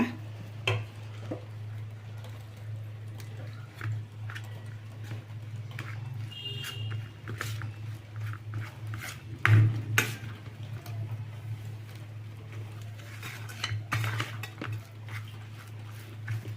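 Sweet laddu mixture stirred in a pan for a festival treat, soft scraping and occasional clinks of a utensil against metal repeating irregularly over a steady low hum, close and fairly quiet.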